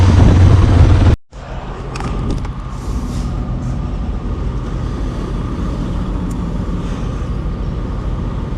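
Motorcycle cruising on an open road in El Salvador, a steady droning engine and wind roar close to the rider after a brief abrupt cutout near the start.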